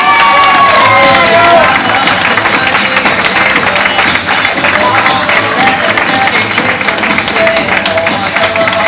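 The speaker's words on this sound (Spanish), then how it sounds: "Un fuerte aplauso." A crowd cheers and applauds loudly for the overall champion of a Galician weightlifting open, with dense clapping, shouts and whistles close up, a few voices calling out over the din.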